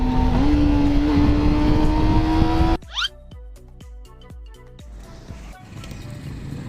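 A Kawasaki ZX25R motorcycle engine holds a loud, steady, high-pitched drone that climbs slightly. It then cuts to a run of sharp, evenly spaced bursts and pops before settling into a rougher, quieter rumble.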